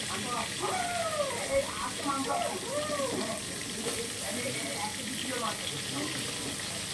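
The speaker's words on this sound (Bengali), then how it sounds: "এবার তো কড়াইটা অলরেডি ভালোভাবে গরম করে নিতে হবে, তাহলে কিন্তু মাছটা দ্রুত ভাজা হয়ে যাবে।" Magur fish fries in a hot wok, a soft, steady sizzle and spatter running beneath a person talking throughout.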